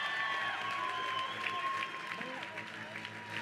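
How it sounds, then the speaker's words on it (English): Crowd applause for two women fighters after a three-round combat sports bout at a combat games event, steady and dense clapping filling the room with some cheering, with an announcer's voice over it. "how about a round of applause for these ladies?"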